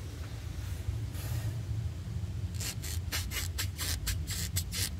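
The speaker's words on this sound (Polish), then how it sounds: "Taki odgłos jest, jak wentylki mają gumeczki pozakładane." Rubber seals on the service valves of an old car's air-conditioning rub and squeak. A faint low hum comes first, then a quick run of short, rasping rubbery bursts.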